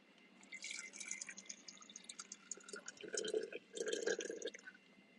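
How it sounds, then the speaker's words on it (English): Tap water pours and trickles into a kettle in a kitchen, a soft, continuous splashing that grows slightly fuller toward the end, heard alone and at low level. "I gotta put water on the kettle."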